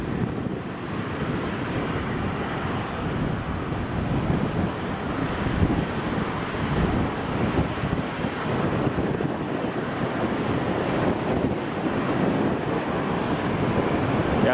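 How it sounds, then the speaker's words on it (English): An Air France airliner taxis at Newcastle International Airport, heard as a continuous low, distant engine rumble mixed with wind noise on the microphone. "the Air France is taxiing now"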